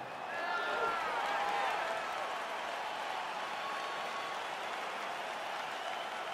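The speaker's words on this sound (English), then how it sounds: "crowd getting excited as this fight gets underway" An arena crowd roars and cheers continuously at the opening of a UFC 4 video game bout, a dense steady wash of noise that swells slightly early on and then holds level.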